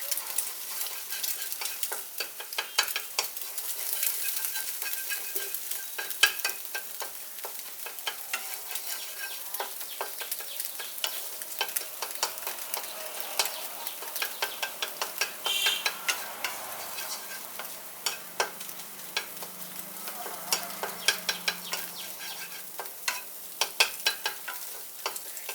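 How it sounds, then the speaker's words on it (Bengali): An egg scrambled and fried in mustard oil, crumbled with a spatula in the pan; soft continuous sizzling with frequent light scraping taps, steady and close. "ডিমটাকে আমি ঝুরি ঝুরি করে ভেজে নেব।"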